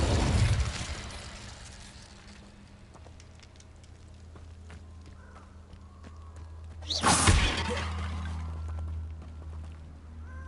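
Incendio fire spell cast in Hogwarts Legacy, a sudden whooshing flare of flame that swells and fades over a low steady ambient hum, with an earlier burst at the start.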